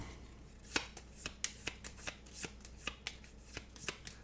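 Cards for a Rogue Dungeon solo board game being shuffled close up, a quiet run of crisp riffling snaps and taps in an irregular rhythm, with no voices.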